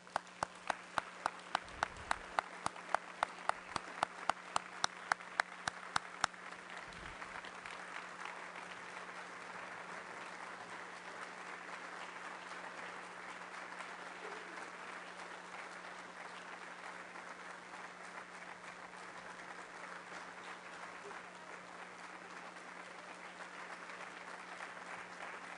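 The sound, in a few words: audience applause at Rotary Club meeting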